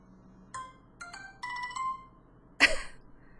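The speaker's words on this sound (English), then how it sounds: "That was my daughter's phone." A mobile phone ringtone plays as short, bright electronic chimes in a quick melodic run, followed by a sudden sharp cough-like burst, all fairly close in a quiet room.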